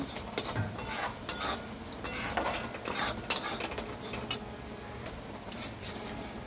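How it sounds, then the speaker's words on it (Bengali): Sugar spooned into a pan of milk for kalakand on a medium flame, close scraping and stirring strokes of a spoon against the pan, repeated in uneven bursts, fairly soft. "আমি তিন চামচ চিনি দিচ্ছি"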